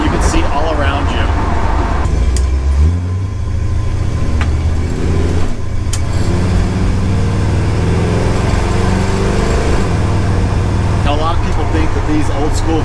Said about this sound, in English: we're just cruising along with California traffic, no problems